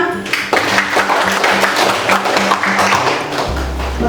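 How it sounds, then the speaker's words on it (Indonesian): Audience applause at a teaching-practice exam session in a classroom in Kupang, heard as a dense, steady patter of hand claps over four seconds with a low hum entering near the end. "Tepuk tangan."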